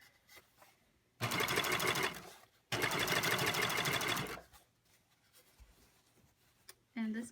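A serger stitches fabric while a zipper is put in, whirring loudly and steadily in two long close bursts separated by a brief pause, with quiet handling sounds around them.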